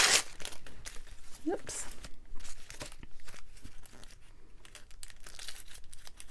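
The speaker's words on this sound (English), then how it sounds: "Tear it off." Paper crinkles and tears as a piece is ripped off for a junk journal, a short close rip amid rustling, with a person talking over it.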